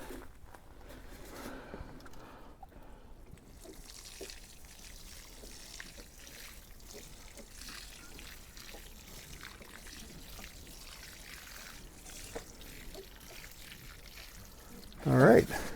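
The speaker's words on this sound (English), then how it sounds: "let's get that watered in" Water pours and trickles softly onto a newly planted garden plant, a steady quiet splash with a brief louder burst near the end.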